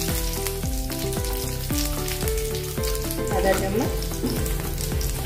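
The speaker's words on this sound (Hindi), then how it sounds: "अब इसमें हम हल्दी डालेंगे" Turmeric goes into hot oil with mustard seeds and curry leaves in a pan, a continuous crackling sizzle sitting under prominent background music, with a brief voice speaking.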